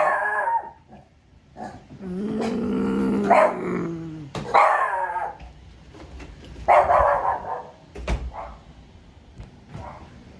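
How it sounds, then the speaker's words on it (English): A dog barks and growls loudly and close by in several rough bursts, with short pauses and a low snarl between them and no speech over it. "Hold on, I lost my place because of that nutty dog."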